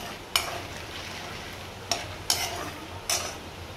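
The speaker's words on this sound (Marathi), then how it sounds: "डाळे मी आता तळून घेते पहिला" Roasted gram dal fries in hot oil for poha chivda, a soft continuous sizzle broken by four sharp metallic clinks of a spoon against the pan, spaced unevenly, nearby and with no speech.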